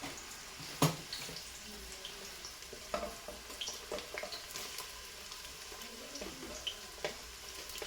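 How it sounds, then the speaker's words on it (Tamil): Chopped onions go into a hot pan for prawn biryani, making a steady, fairly quiet sizzle broken by sharp clatters and scraping stirs, with no one talking. "வெட்டி வச்ச வெங்காயத்தை வந்து போட்டுருவோமா?"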